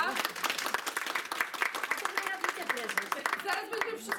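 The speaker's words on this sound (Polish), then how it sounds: "Brawa!" Library audience applauding at a Genius Loci art event, a dense crackle of hand claps with a voice speaking over it throughout, fairly loud and steady.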